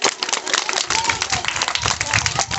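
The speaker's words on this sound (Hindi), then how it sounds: "तो एक बार जोरदार तालियां पेश कर सकते हैं।" A school audience of children and staff claps at a magic show in an academy hall, brisk uneven clapping filling the room with some crowd murmur mixed in.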